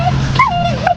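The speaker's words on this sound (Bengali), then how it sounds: "অনেক বিদেশি কুত্তা আছে, বিদেশি কুত্তা।" A close dog, one of several foreign-breed dogs, lets out a short, high whining yelp lasting about a second and ending abruptly.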